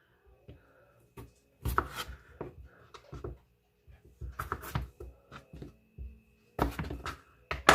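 A knife slices through red potatoes on a cutting board in a home kitchen, giving scattered sharp cuts and scraping strokes in short irregular clusters, with quiet pauses between them.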